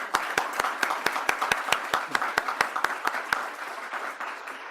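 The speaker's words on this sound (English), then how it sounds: "So a round of applause for Tim." Applause at a global health and law commission event, with one close pair of hands clapping in a sharp, regular rhythm over a softer wash of audience clapping that thins out near the end.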